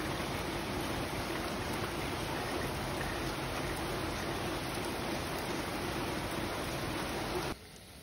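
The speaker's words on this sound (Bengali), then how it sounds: "বৃষ্টি হইতেছে, রান্নার এখানে দাঁড়ায় দাঁড়ায় বৃষ্টি দেখা যায় জানলা দিয়ে।" Steady rain falls outside a kitchen window on a rainy day, a dense, even wash of patter that holds constant and close, then drops off sharply near the end.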